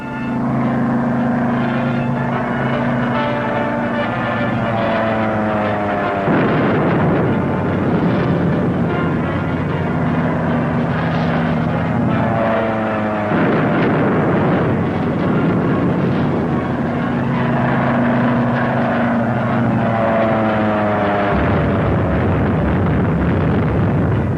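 An airplane drones loudly and continuously, with engine pitch rising and falling in long sweeping waves and a rough roaring layer throughout, dominating the whole stretch without speech.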